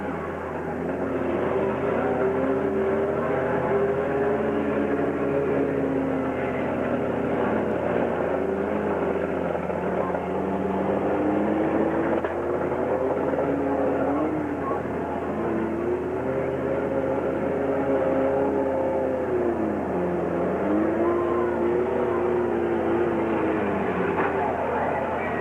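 Race cars circle Gasport Speedway in 1995, a steady, continuous engine roar with shifting pitch sweeping up and down as cars pass, loud and unbroken throughout.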